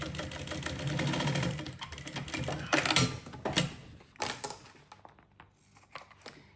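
A sewing machine stitches the trim onto a lunch bag with a steady, rapid mechanical chatter that fades into scattered quieter clicks and handling noises.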